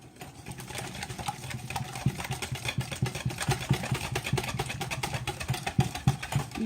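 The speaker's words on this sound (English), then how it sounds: "Just keep whisking till all those eggs are mixed in and your lumps are gone here." Coconut flour pancake batter with eggs is whisked briskly in a bowl, a quick steady run of scraping, tapping strokes close by, with no talking.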